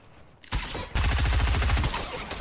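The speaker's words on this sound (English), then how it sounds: "keep firing." After a brief quiet moment, loud rapid gunfire in Fortnite breaks out in close, continuous automatic bursts lasting about two seconds.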